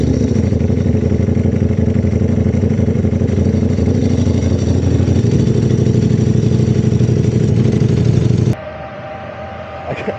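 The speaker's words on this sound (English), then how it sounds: "The two drag clutches, they sound so obnoxious." A Ducati Panigale V4R idles loud and close, its dry clutch adding a busy metallic rattle over the deep throbbing engine, then the sound drops sharply toward the end.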